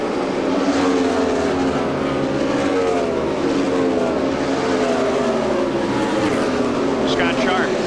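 IRL IndyCar race cars scream past at Walt Disney World Speedway in the 1997 Indy 200, a loud continuous engine roar with shifting pitch sweeps as cars pass, under steady commentary.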